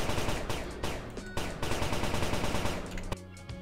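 Laser guns fire in a multiplayer space video game, dense rapid bursts of loud synthetic shots in quick succession, with brief gaps and switching between weapons, no talking over them.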